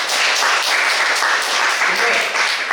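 Audience applause fills a hall at the 2025 Pohang Steel Art Festival, a dense, steady wash of clapping that holds loud and even throughout with no gaps.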